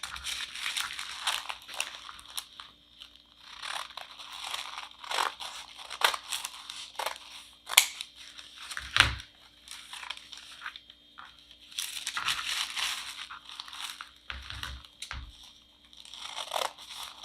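Scissors cutting roughly six-inch squares of wrapping material for a candy bouquet, with repeated crisp snips and crinkling rustles of the sheets in irregular bursts, close by and without talk.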